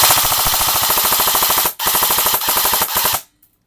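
A Lancer Tactical G4 airsoft gun firing full auto, loud close rapid-fire bursts with a brief pause between strings, ending abruptly into near silence.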